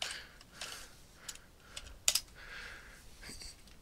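Fingers tap on a computer keyboard in a quiet room, a handful of soft, scattered keystrokes with a couple of sharper clicks near the middle, faint and close.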